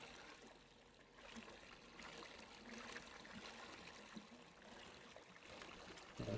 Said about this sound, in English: pour 10 liters of this into there